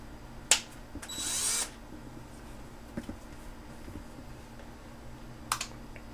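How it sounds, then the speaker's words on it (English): A handheld power drill spins up briefly while boring into a camera tripod: a short, high whirring burst, with a few sharp clicks and taps of handling before and after in an otherwise quiet room. "just take our drill and just let it rip right here"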